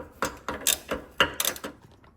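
A torque wrench ratchets in several short clicking bursts as bolts on a Porsche GT3/GT4 control arm are tightened, close and crisp, with brief pauses between pulls.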